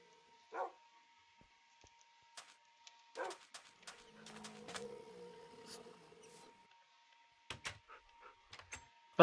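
Puppies in the Minecraft Hexxit modpack give short, soft whimpers and yips, scattered in brief bursts with one longer whining stretch in the middle, amid quiet clicks.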